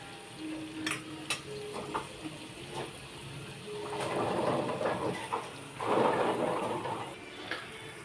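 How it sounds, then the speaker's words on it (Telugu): Vegetables frying in a pan for masala curry, a soft background sizzle with a few light utensil taps and two louder surges of hissing as they are stirred. "ఇవి బాగా వేగాలి."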